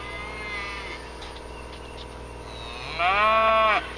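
Cattle arriving at a farm paddock moo in the distance, with a faint low call early on and then a louder, nearer drawn-out moo near the end, over a constant background rumble.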